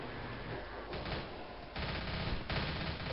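Dense, continuous gunfire from the zombie shooter Left 4 Dead, with rapid overlapping shots in a loud sustained barrage that steps up in intensity twice.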